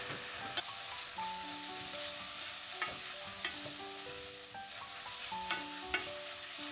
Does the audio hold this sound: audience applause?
no